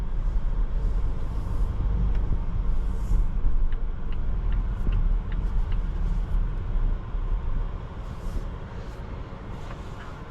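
Steady low road rumble and tire noise fill the cabin of a 2026 Volvo XC60 T8 plug-in hybrid Ultra SUV while driving, a smooth, continuous drone that eases slightly near the end.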